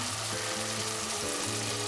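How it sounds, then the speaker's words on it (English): A steady, loud sizzle of onions frying in butter, crackling continuously without pause and with no voices. "it is in fact just simply butter frying with onions"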